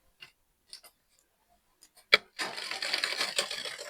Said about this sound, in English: Now let's start sewing.